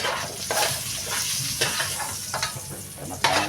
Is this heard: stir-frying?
yes